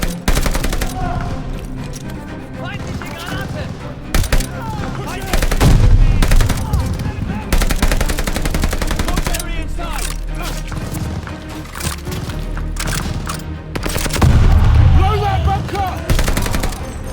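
Machine gun fire in the Call of Duty: Vanguard mission Operation Tonga, loud sustained bursts and scattered gunshots with heavy impacts. Battle chaos and occasional shouted voices run underneath.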